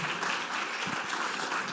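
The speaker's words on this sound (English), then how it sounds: "So a big round of applause for our panelists." An audience at a summit panel on stablecoins claps for the panelists in a short burst of dense, steady applause.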